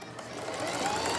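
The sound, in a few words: sewing machine seaming sides of yarn bag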